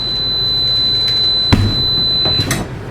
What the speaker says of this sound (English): When I open this door, the alarm should sound.